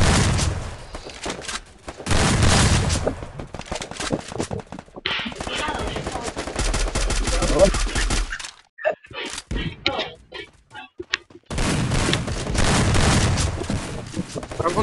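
Automatic weapon fire from a Free Fire match, including an XM8 rifle, rattles in loud rapid bursts with brief pauses and thuds, while players talk over the shooting.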